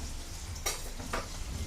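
Tuyo, dried fish, cooking and bubbling in a pan with a soft steady sizzle, broken by two brief stirring or utensil scrapes; quiet and close, no talking.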